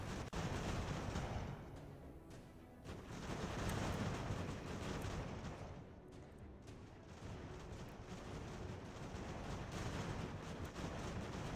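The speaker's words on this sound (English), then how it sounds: "Give him a volley, boys." Musket volleys in the battle game Ultimate General: American Revolution, an attack on a British fort in 1776, roll out as a dense, rumbling roar of massed gunfire and battle noise with swells and dips, distant and muffled.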